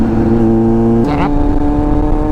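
A motorcycle with a loud exhaust drones steadily while being ridden on a road. The engine pitch shifts partway through, and a voice is faintly mixed in with the engine noise.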